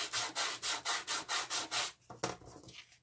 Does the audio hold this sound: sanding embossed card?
yes